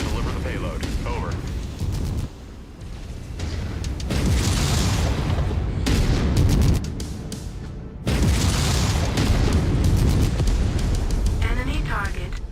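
Explosions of destroyed enemy targets in MechWarrior 5: Mercenaries: heavy, loud booming blasts with rumbling tails recurring through the clip, mixed with mechanical game noise and radio-style voices talking over the action.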